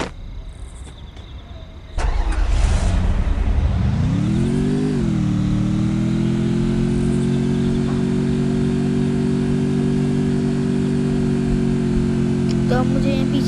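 Motorbike engine in the Free Fire video game: it starts abruptly, revs and climbs in pitch, then settles into a loud, steady drone that holds to the end.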